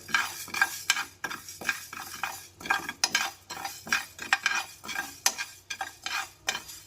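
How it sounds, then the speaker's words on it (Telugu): Fenugreek and mustard seeds dry-roast in a pan, stirred with a large spoon in quick rhythmic scrapes and clinks over a faint sizzle, close and clear with no talking. "ఒక రెండు టేబుల్ స్పూన్ల మెంతులు నాలుగు టేబుల్ స్పూన్ల ఆవాలు వేసుకుని ఈ విధంగా దోరగా వేయించుకోవాలి"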